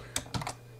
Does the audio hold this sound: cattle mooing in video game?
no